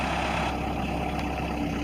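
A 2007 LULL 944E-42 telehandler engine runs steadily as the machine maneuvers, giving a dense, constant diesel rumble that stays close and loud throughout, with no voices.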